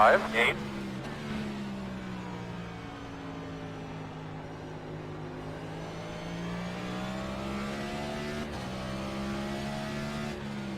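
A race car engine revs and drives along a track, its pitch rising and falling through gear changes as it passes, with a brief loud burst at the start and steady engine drone afterward.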